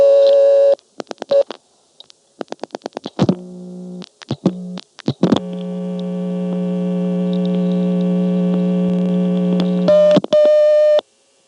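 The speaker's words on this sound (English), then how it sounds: "was nonetheless able to get the reorder tone from Cabot on tape as dialed from Marshfield" Telephone reorder tone from the Cabot exchange, dialed from an independent step-by-step office in Marshfield, Vermont, in 1975: loud, steady tone bursts interrupted by dial clicks, then a long sustained buzzing intercept tone and a few closing clicks.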